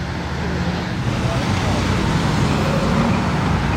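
A steady roar of a Lamborghini Revuelto supercar engine and road noise builds continuously as it drives toward the listener in Monaco, loud and broad, with no pauses.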